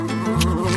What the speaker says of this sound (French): Oh non, les abeilles.